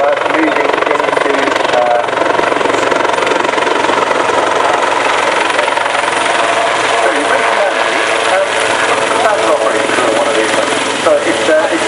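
Aircraft engine droning steadily at the Southport Airshow 2016, a loud continuous mechanical roar with a choppy, rotor-like texture filling the whole stretch, with people talking over it.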